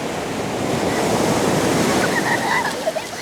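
Ocean waves roll onto a beach in Samar at high tide. The surf makes a continuous, loud wash with some wind rumble, and no one speaks.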